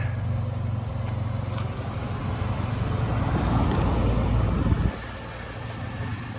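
A passing car on a sunny road beside a parked 1988 Toyota Celica ST165 rally car, a broad tyre-and-engine rush that builds steadily, peaks close by, then cuts off abruptly, with wind noise throughout.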